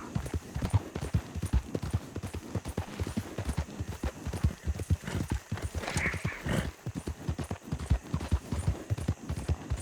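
A horse galloping in the video game Red Dead Redemption 2: rapid, close, driving hoofbeats throughout, with a short whinny partway through.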